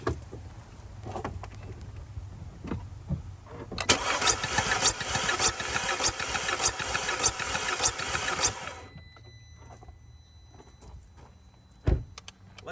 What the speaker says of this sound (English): Let's see if the engine cranks over.